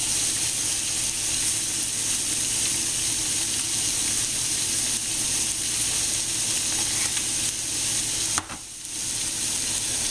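Taco-seasoned meat sizzles loudly and continuously in a pan while being stirred, with a brief scrape and a momentary dip near the end.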